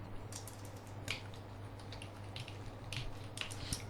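Router configuration commands being typed on a computer keyboard, a faint scatter of light, irregular key clicks in short clusters over a low steady hum, no one speaking.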